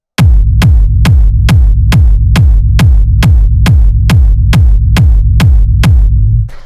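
Hard techno rumble bass drenched in reverb, a loud, steady run of about a dozen evenly spaced kick-driven low thumps, each with a smeared, rumbly tail blending into a continuous throbbing texture.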